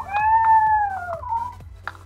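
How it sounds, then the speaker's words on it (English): A cat from the Mo Creatures mod in Minecraft meows loudly and clearly in a long, wavering, howl-like cry that bends downward, followed by shorter mews over a low game hum. "Oh, look at this little cat."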